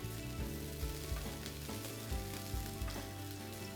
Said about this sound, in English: And add your green onions, just the white part of it. And we're gonna saute it for about a minute or so to bring out the aroma.